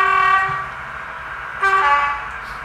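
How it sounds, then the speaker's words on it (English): A sound-fitted model Western Pullman train sounds two clear horn blasts, one at the start and another about a second and a half later, loud and close with a slight hum underneath. "you can never have too many horns."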